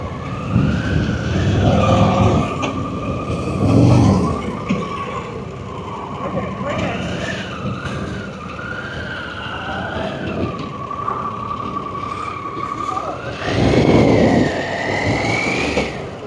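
A Harley-Davidson Pan America adventure motorcycle pulls away in first gear at the ABR Festival 2024. The engine revs in loud surges with a rising whine and gear changes, while a rider talks over parts of it.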